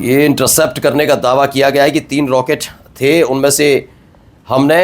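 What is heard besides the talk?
None of the usual background noises is heard.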